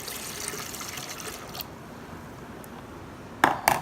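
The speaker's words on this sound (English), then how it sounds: "in my blender jug, I'm adding 1 cup of water" One cup of water poured into a blender jug for a basil smoothie, heard as a steady liquid splash and gurgle ending in a couple of sharp clunks.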